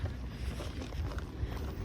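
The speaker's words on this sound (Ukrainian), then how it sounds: "Йдемо за посилкою вже на вулиці, страшний вітер" Gusty wind buffets the microphone outdoors, a low rumbling rush that swells and dips throughout.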